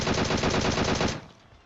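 Rapid automatic M4 rifle fire from PUBG Mobile gameplay, a loud, dense burst of evenly spaced shots lasting about a second before cutting off into quiet.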